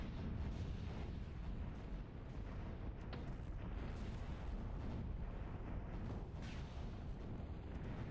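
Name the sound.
bombing explosions in the video game Zero-K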